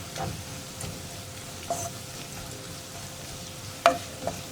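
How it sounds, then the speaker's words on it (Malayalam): Spice powders, including black pepper, frying in a pan for egg curry and stirred with a few soft scrapes and clicks over a low, steady sizzle; fairly quiet, no voices. "പൊടികളുടെ റോ സ്മെല്ല് മാറി വരുന്നത് വരെ വീണ്ടും ഒന്ന് ഇളക്കി കൊടുക്കുക"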